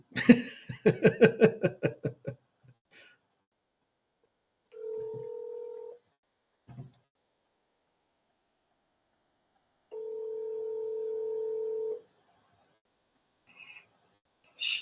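A phone call is placed, with two long electronic ringback tones separated by silence, after a short burst of laughter at the start.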